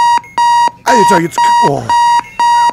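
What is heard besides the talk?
alarm clock ringing in video game Keep Talking and Nobody Explodes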